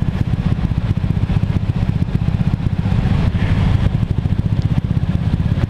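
A Honda Vario scooter fitted with a loose aftermarket exhaust runs steadily and close by, giving off a dense, rumbling, even pulsing throb that holds for the whole stretch with no talking.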